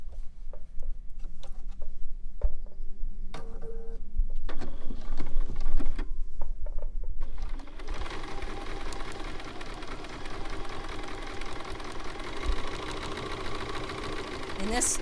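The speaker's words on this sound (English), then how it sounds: "Now I'm just going to sew around." A sewing machine stitches around a fabric book, its needle hammering in a rapid steady chatter that grows louder and denser partway through, after some earlier handling noises.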